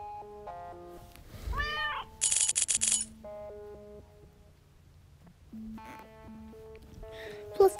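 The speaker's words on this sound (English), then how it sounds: "why do I have a cat?" A cartoonish cat meows twice in a mobile video game, short and bright amid chiming game tones and a burst of buzzing effects, with no talking.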